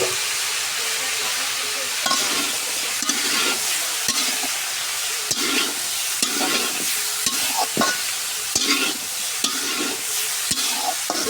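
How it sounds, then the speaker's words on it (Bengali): Pumpkin, carrot, cabbage and cauliflower are stir-fried in a pan, a steady sizzle broken by repeated scraping strokes and clanks of the spatula at an irregular rhythm, close and fairly loud, no talking. "হালকা করে আমি এখন আউড়িয়ে নেব"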